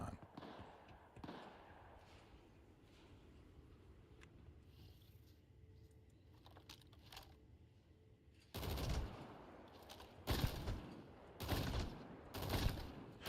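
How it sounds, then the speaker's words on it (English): Turret gunfire in the Starfield video game: after a quiet stretch with low rumble, loud bursts of rapid shots erupt near the end, several close volleys with brief gaps between them. "Who's shooting that gun?"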